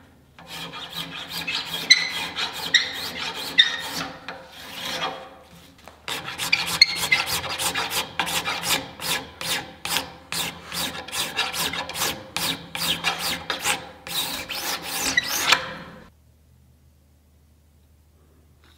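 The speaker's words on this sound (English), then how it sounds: "let's hit this up on the belt sander and hog off some material so that we can start bending it." A belt sander grinds material off a wooden reflex-deflex bow in two passes, with a brief break between them. It makes a steady raspy hiss with rapid regular ticking from the belt, then stops and leaves near silence.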